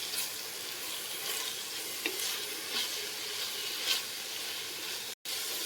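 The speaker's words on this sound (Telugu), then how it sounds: "ముందుగా తోటకూర వేసానండి. ఇది వేసుకొని బాగా మిక్స్ చేసుకోండి." Amaranth leaves are stir-fried and mixed in a pan for green pulao, a soft steady sizzle broken by occasional scraping clicks of the spoon.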